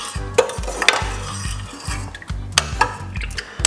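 A breakfast mixture stirred in a hot pan, with repeated scraping strokes in a steady rhythm, a light sizzle underneath and sharp utensil clicks against the pan, close and fairly loud.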